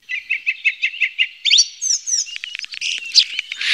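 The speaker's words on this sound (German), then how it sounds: "Drossel" Thrush song outdoors: a fast series of repeated bright whistled notes, followed by varied sliding phrases and a rich, busy warble, loud and close with no voices.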